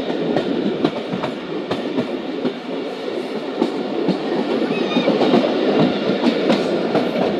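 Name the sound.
passenger train running on rails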